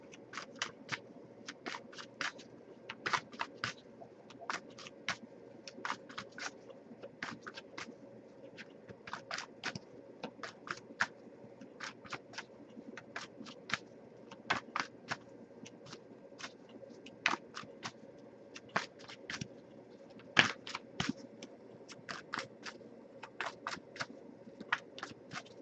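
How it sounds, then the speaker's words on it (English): Cards are shuffled by hand, quick crisp flicking clicks in uneven bursts, close and fairly quiet, repeating throughout. "I'll give it a few more shuffles"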